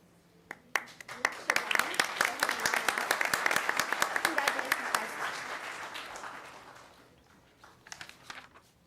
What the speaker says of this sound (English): And if everyone would join me in a round of applause.